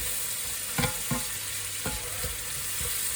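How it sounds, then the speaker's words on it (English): Onion and garlic sauté in butter in a pan under a constant soft sizzle, with several scraping stirs of a utensil spaced through it and no talking. "We're going to saute these down for 3 or 4 minutes, as I say, with all this lovely butter and everything"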